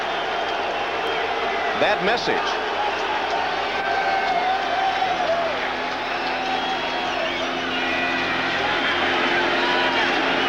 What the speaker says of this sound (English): And the crowd is cheering